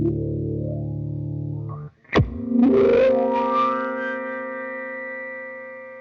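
Electric guitar through a fuzz and filter effect: a low-string chord darkens, a sharp pluck hits, then the filter sweeps back open into a wild, bright ringing sustain that slowly fades, played alone.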